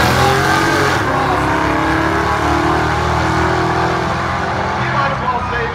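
At a hooptie drag race, an LS-powered S10 Blazer and a 440 big-block Dodge truck launch with loud, close engines roaring and revving, the note shifting as they pull away, with a voice speaking over the noise.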